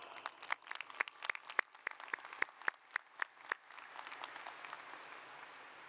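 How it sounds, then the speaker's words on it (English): A small cluster of distinct, sharp claps opens into thin, scattered applause at a high school graduation in a large hall, sounding distant and fading into a soft crowd wash with no speech. "giving them a loud round of applause"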